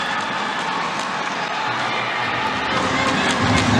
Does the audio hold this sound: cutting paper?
no